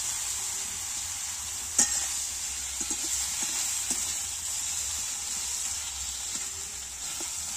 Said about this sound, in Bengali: তো আমাদের সিম ভাজাটা হয়ে গেছে